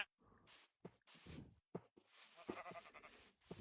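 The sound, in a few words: sheep bleating in the video game Minecraft VR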